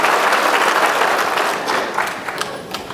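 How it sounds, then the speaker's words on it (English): An audience applauds loudly and steadily for a few seconds, the clapping thinning slightly toward the end. "it always concerns me when people applaud that much before I speak"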